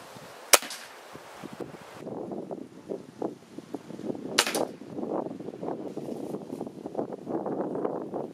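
Rifle shots fired with Whisper Fusion Elite ammunition during an ammo test: a sharp crack early on and another loud report midway, separated by softer rustling and handling noise outdoors.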